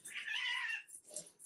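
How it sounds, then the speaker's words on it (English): A house cat lets out a drawn-out, fairly loud meow close by, then a couple of softer, shorter mews follow. No one speaks over it. "And that was my cat."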